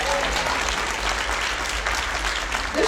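A church congregation applauds steadily at a Sunday service, a dense, continuous roomful of clapping that stays loud for the whole stretch.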